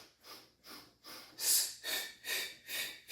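Deep, rhythmic breaths drawn in and pushed out during an abdominal toning exercise, about six close, evenly paced cycles with no talking.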